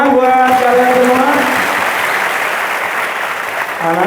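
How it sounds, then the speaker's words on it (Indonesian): Students clap together in a loud burst of applause that fills the room and fades slowly, with a voice speaking over the start and the end. "tepuk tangan buat kalian semua"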